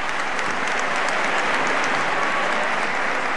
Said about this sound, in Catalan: Este és un punt del que aplaudís tot el públic.